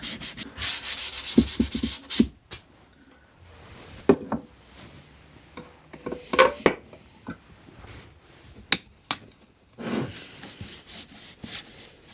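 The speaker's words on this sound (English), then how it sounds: "I'm just going to sand down any rough bits" A rough part of a homemade wooden thicknesser being sanded by hand, with close, steady rasping strokes at first, then scattered knocks and scrapes, and another run of sanding near the end.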